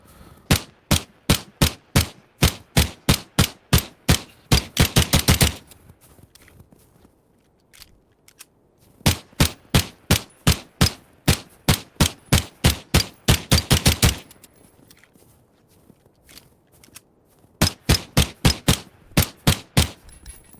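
Pistol gunfire in a video game: three bursts of rapid, evenly spaced sharp shots, each run of about a dozen rounds speeding up at the end, separated by short quiet pauses, loud and close with no talking.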